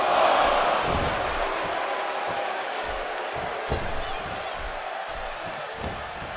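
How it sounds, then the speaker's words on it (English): A WWE 2K16 wrestling video game crowd roars in a broad, steady wash of cheering, with thuds of in-ring action and commentary talk underneath. "by the sound of this crowd, I think they're getting what they wanted"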